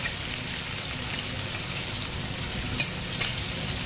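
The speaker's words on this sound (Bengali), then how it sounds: "এবার এটাকে ভালো করে একটু ফ্রাই করে নেব" Steady frying sizzle from a pan of chopped onions, a continuous hiss with a few sharp pops and crackles standing out.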